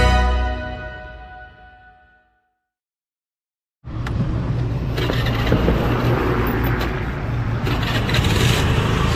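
A vehicle engine cranks and catches after a short silence. It settles into a loud, steady idle with some scraping rattle, close by and without speech.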